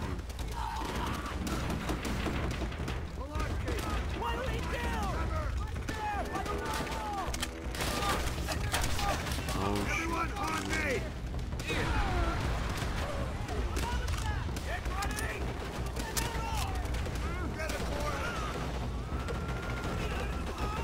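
Sustained gunfire and machine-gun bursts from a Call of Duty: World at War campaign battle, dense and continuous for the whole stretch, with shouted voices and other battle noise mixed in throughout.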